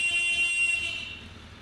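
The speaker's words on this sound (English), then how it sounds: "We're going to check the operation of the horn as well" A motorcycle horn sounded during an MOT check: a steady, fairly loud electric tone held for under a second before cutting off and fading.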